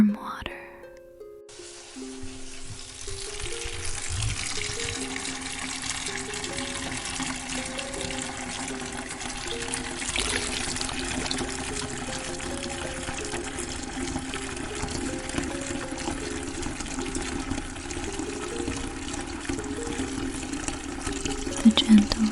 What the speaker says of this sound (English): You set the pail beside you, listening to the slosh as you pour in warm water.